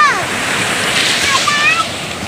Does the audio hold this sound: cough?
no